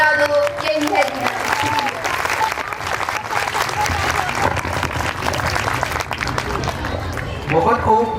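Indoor audience clapping loudly and continuously at a prize distribution ceremony, dense applause with some cheers, while a voice speaks briefly near the end.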